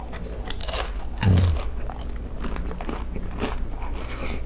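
One loud crunchy bite into fried chicken, followed by quieter chewing and crackling sounds close to the microphone.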